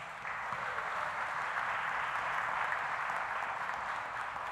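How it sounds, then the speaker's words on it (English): Audience applause at a graduation ceremony, a steady wash of many hands clapping at moderate distance, sustained and even throughout without individual claps standing out. "So give yourself a round of applause."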